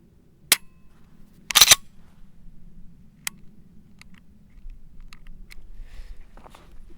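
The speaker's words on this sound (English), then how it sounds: "You might be able to hear that grit right before the trigger breaks." Clicks from a Smith & Wesson M&P pistol trigger, first a single sharp snap and then a brief cluster of louder clicks as the gritty trigger takes up and breaks, followed by faint ticks in a quiet room.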